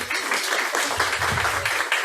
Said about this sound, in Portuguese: Palmas para Léo, gente.